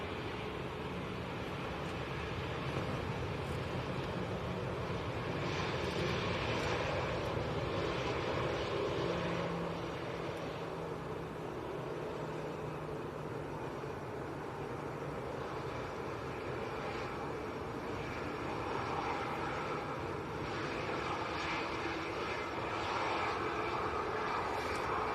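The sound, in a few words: EasyJet Airbus A320 arriving from Catania at Manchester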